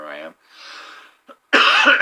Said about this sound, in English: I seem to have developed a cough right now